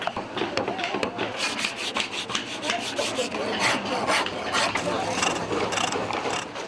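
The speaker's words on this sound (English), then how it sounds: "from cutting out pieces of wood into the right shape to tracing out designs, etching, chiseling and drilling holes" Handwork on teak or Indian rosewood (shisham) — cutting, etching and chiseling — gives a busy, continuous scraping and rasping of tools on wood, with rapid tapping strokes throughout and faint voices in the background.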